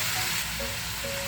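Bean sprouts seasoned with soy sauce sizzle in a hot stir-fry pan, a short, steady, fairly loud hiss with no talking.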